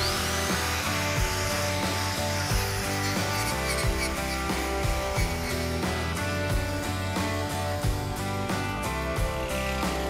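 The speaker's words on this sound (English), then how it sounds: "Just gonna grind the dross off of here." A power grinder taking welding dross off a steel caster bracket, a loud continuous whine and rasp at close range that holds steady throughout with small fluctuations in pitch.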